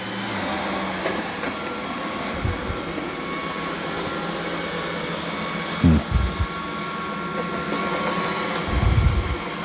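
A Roborock Q5 Pro+ robot vacuum and mop runs indoors across floors and rugs, giving a steady whirring motor and fan drone with a few brief low bumps and clunks, no talking.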